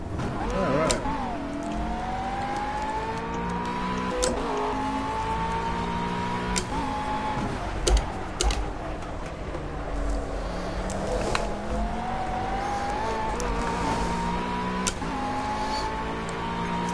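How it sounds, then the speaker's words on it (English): McLaren race car in Project Cars, a fairly subdued engine note rising and falling through gears, with occasional sharp clicks and bumps, and faint talk mixed in. "This McLaren's a lot quieter than I thought it'd be"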